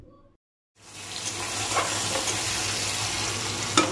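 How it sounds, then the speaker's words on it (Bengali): Whole cumin seeds, two bay leaves and two medium chopped onions hit hot oil after a brief silence, bursting into a loud, continuous sizzle with scattered pops and crackles, close and alone. "এখানে তেলটা গরম হয়ে যাওয়ার পর দিয়ে দিলাম ছোট চামচের এক চামচ গোটা জিরে, দুটো তেজপাতা আর দুটো মাঝারি সাইজের পেঁয়াজ কুচি"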